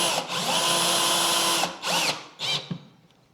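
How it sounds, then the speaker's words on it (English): A cordless drill driving screws whirs steadily for about a second and a half, then gives two short bursts, with clicks and a faint tail as it stops; its clutch is not engaging. "I don't think the clutch system works very good on this drill"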